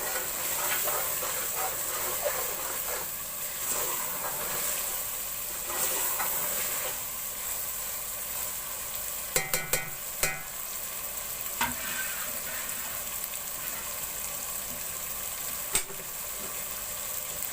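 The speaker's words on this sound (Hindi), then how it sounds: "आंच मैंने तेज रखी हुई है। अब मैंने गोश्त और मसाले को भून लिया।" Mutton and spices fry over high heat, giving a constant loud sizzle and hiss, with stirring scrapes and a few sharp clinks from the pan.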